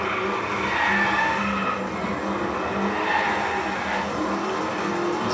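A race car drifts in the DriveClub video game, its engine roar steady and loud throughout with tire squeal from the skid layered on top, and no voices.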